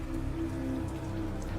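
Steady rain falls in a continuous soft hiss with light patter, even and unbroken, with a low hum underneath.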